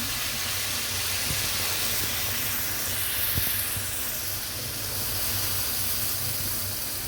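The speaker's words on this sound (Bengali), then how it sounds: "এখন আমি চালটি ভালো করে ভেজে ফেলবো।" Rice frying in a pan with garam masala for hilsa pulao makes a steady, soft sizzling hiss that carries on evenly throughout, with no talking.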